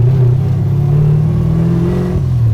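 A 1969 Chevrolet Camaro SS with a 490ci V8 in Pro-Touring trim drops a gear and revs, its loud, steady engine note shifting pitch near the end of the short burst.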